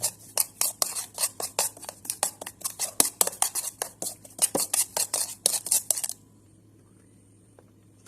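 A spoon stirs a pork marinade of sugar with light and dark soy sauce in a bowl, making rapid, steady clinks against the bowl for about six seconds before stopping into near silence.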